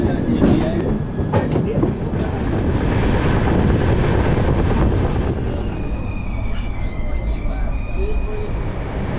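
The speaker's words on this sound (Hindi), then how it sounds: "ये है भाई डायमंड क्रॉसिंग।" A passenger train crosses the diamond crossing at Nagpur with a loud, close rumble and rattling wheel clatter that runs without a break, while a voice speaks over the noise.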